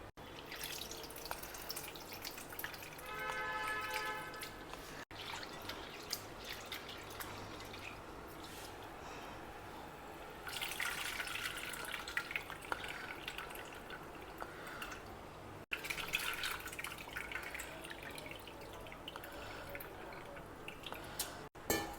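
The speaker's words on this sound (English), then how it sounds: "We will wash this also very well and bring it back." Urad dal and methi seeds being washed by hand in water, with close sloshing, dripping and squishy swirling, growing louder in bursts midway and near the end, no talk.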